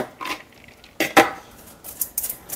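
Cabbage is tossed in a frying pan with a few short metallic clinks and scrapes of a utensil against the pan, brief and close, without talk.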